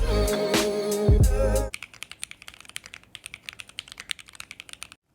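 Typing on a Squid Game edition Keychron Q1 mechanical keyboard: after a loud burst of music, rapid close clicky keystrokes in a quick irregular rhythm run alone for several seconds.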